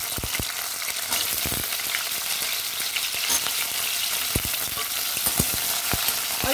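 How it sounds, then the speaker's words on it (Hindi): Potatoes fry in a pan of oil while making a drumstick (sahjan) vegetable dish, giving a steady dense sizzle with scattered sharp crackles and pops throughout, close and fairly loud, with no voices. "अब हम इसमें हम आलू डाल देते हैं। आलू को भी हम फ्राई कर लेंगे।"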